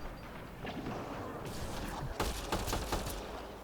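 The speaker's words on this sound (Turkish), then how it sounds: "Benim elimde şu anda bir makine tüfek var ama tek tek tek kurşun atıyor" Rifle fire in the sci-fi shooter Mass Effect Andromeda, loud bursts of shots cracking out at a steady pace, strongest toward the end, over constant game background noise.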